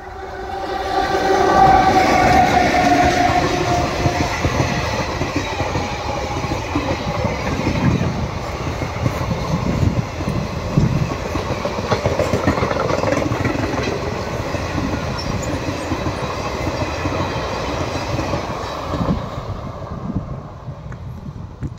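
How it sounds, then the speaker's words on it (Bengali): A train runs along the Lalgola–Sealdah rail line toward Lalgola, a loud, steady rumble of wheels and cars rolling past close by for over twenty seconds, with a horn sounding early on. "লালগোলা শিয়ালদা যে রেল লাইন তার উপর দিয়ে একটা ট্রেন চলে গেল, এটা যাচ্ছে লালগোলার দিকে"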